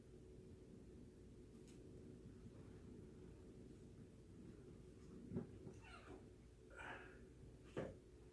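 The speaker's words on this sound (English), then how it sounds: "If you hear purrs" A female cat purrs close by, a soft, steady low rumble that runs the whole time, very quiet, with a few brief rustles and a quiet voice near the end.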